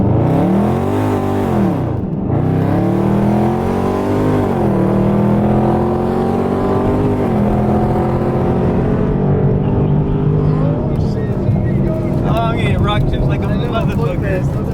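Loud V8 drag race from a dig between a Dodge Charger Scat Pack and a Ford F150 5.0 V8, engines roaring and climbing through repeated gear shifts, up close and continuous, with excited voices shouting over the run.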